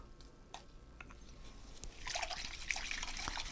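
Water trickles and splashes quietly as bay laurel cuttings have their roots rinsed, soft drips at first that swell into a steadier, fuller running stream toward the end, with no talking.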